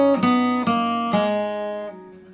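Electric guitar lick from a country song, three ringing picked notes that each sustain and slowly fade, played solo and close.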